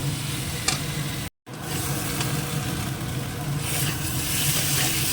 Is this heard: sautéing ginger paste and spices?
yes